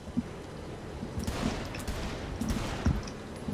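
Gunfire from the Saints Row 3 video game crackles in scattered bursts at moderate level, several sharp shots popping over a busy, noisy game background.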